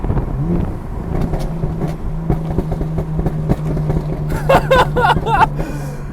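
BMW M4 exhaust burbling and popping during a midnight drive, a steady low engine drone with a dense cluster of crackles near the end, heard from inside the car.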